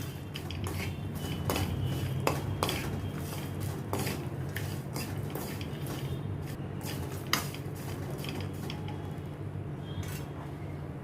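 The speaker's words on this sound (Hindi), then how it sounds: "तो शुगर को भी मैं मिक्स करती हूँ।" A spoon keeps clinking and scraping against a metal vessel as powdered sugar is mixed in before roasted poha chivda is added, a close, rapid run of light taps over a low steady hum.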